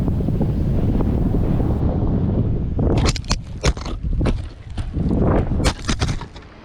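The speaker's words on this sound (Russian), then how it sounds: "В карьере гулял сильнейший ветер" Heavy wind in a quarry in Crimea buffets the microphone with a loud, constant roar, then turns gusty with sharp, irregular bursts and thumps.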